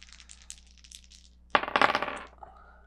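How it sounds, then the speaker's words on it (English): Wind dice for Worms: The Board Game tumble in a short, close clattering rattle of several hard clicks after a quiet stretch, dying away within about a second. "Maybe you'll roll four wind dice as well."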